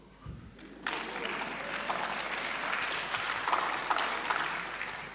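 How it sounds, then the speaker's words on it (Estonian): An audience at a forum on the gender pay gap breaks into applause after a brief quiet moment and keeps clapping steadily at moderate volume. "Aplausi koht on nüüd."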